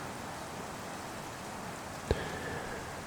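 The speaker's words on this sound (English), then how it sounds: "that veranda picks up a lot of rain and rain noises" Steady rain patters on a corrugated veranda roof as an even hiss, with one brief louder knock partway through.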